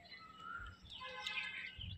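Pigeons at a rooftop coop or loft give a few soft calls and chirps, fairly close, with a low bumping noise underneath and no talk.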